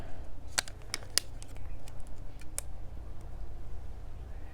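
Small blade snips and clicks through a jaboticaba cutting's root, a few sharp close cuts in quick succession then one more after a pause, over a low steady background hum.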